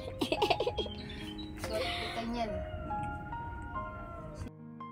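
A cat meows in a series of short, fairly close calls at the start, then a longer drawn-out tonal sound follows over quiet room background.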